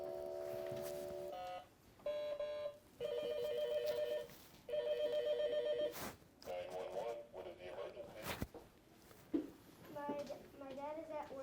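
A toy telephone rings after dialing, with repeated electronic ring bursts and beeps, while a child and an adult talk over it.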